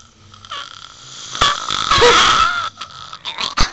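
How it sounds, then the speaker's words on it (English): A person lets out a long, rasping, drawn-out burp that swells and fades over a few seconds, with a short sharp sound near the end. "We're going to sing you a song dedicated to burps."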